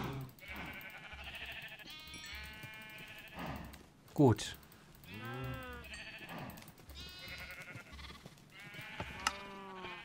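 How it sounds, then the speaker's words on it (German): Minecraft sheep give a string of quavering bleats, several animals calling in turn at close range, while someone speaks briefly among the calls. "Schafe und Kühe."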